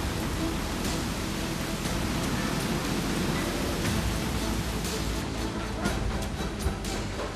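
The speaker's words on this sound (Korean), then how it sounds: "다음 날 잔뜩 흐리던 먹구름이 결국 비를 뿌리기 시작했다" Steady rain pours down on an apartment building rooftop garden under construction, a dense continuous hiss of drops with occasional heavier spatters, close and even throughout.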